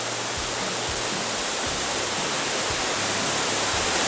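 Makati Falls in Claveria, Cagayan roars as a loud, steady waterfall, a dense unbroken wash of falling water close by with no voices.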